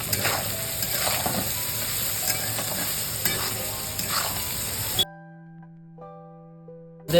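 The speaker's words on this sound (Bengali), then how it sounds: "এবার আমরা গোলমরিচের গুঁড়ো দিয়ে দিলাম আর এটাকে ফ্রাই করে নেবো" Chicken and soybean chunks fry in a pan with salt and pepper, giving a close, steady sizzle broken by stirring scrapes for about five seconds before it drops to near quiet.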